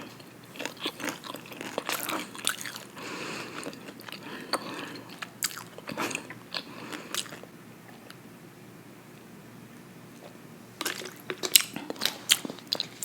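Nachos crunched and chewed close to the mic in ASMR style, with irregular crisp bites and softer chewing between them, quieter in the middle and turning louder and crunchier near the end, without talking.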